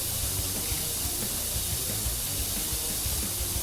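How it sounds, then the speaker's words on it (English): A pressure washer spraying in a first-person soaker game, a constant loud hiss with low rumbling underneath and no talk. "So I'm literally just spraying and praying here in this first-person soaker."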